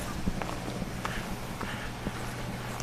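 Footsteps of a person walking through a zoo in Billings, Montana, a series of soft irregular steps close by over faint outdoor background.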